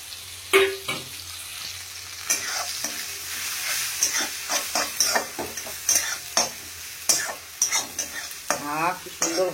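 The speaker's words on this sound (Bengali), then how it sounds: "পেঁয়াজ আর টমেটোটা আর একটুখানি ভাজা হয়ে নিচ্ছি" Onions, tomatoes and spices frying in a pan, a loud close sizzle under repeated scraping stirs of a spatula in an irregular rhythm, with no talk.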